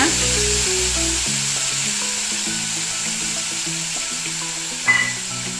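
Hot oil sizzles and crackles steadily in a pan as mustard seeds and urad dal fry, with a faint tap or clink near the end; no talking.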